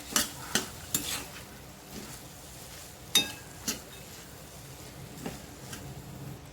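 A spoon stirs sprouted green moong usal with potato and salt in a pot. Sharp scraping clacks come at irregular intervals over a faint background, quiet and close.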